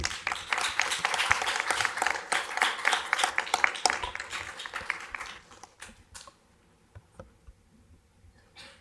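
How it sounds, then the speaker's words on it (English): Applause from a symposium audience is dense and sustained for about five seconds, then thins to a few scattered claps and quiet room sound. "I think it's worth another round of applause for sure"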